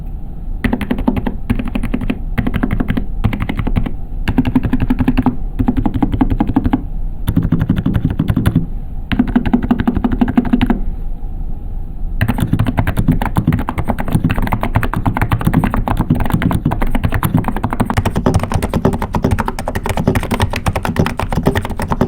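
Fast, continuous typing on a NIZ Plum 82 electrocapacitive keyboard, close and loud, with soft rounded keystrokes and brief gaps early on before an unbroken stretch.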